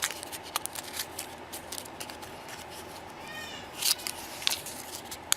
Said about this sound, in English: Sorry if you hear my son crying